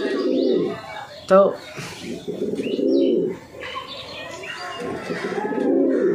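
Pigeons coo in repeated soft, throaty bursts close by, mixed with a few chirps and a brief flutter, while someone talks steadily over them.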